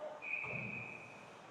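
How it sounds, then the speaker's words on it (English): A referee's whistle at a 16U AAA youth ice hockey game blows one long, steady shrill tone over rink ambience, with no talking. "We get a whistle."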